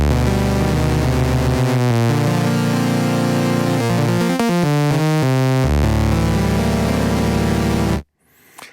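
Initialized default preset on the u-He Hive 2 software synthesizer: a sustained, harmonically rich buzzy tone that shifts through a few pitches over about eight seconds, loud and alone, then stops abruptly.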